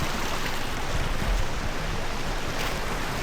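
River water rushing loudly and continuously as someone wades across on foot on a hike near a mining area, a dense, unbroken wash of flowing water with no voices.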